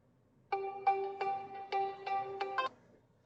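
A phone ringtone breaks into an online network programming class as a bright, steady electronic melody of repeated tones. It plays for about two seconds, clear and fairly loud over faint room noise.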